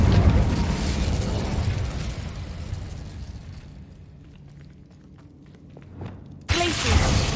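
Incendio fire spell in the video game Hogwarts Legacy, a loud whooshing burst of flame that fades into a quieter stretch before a second sharp, bright blast.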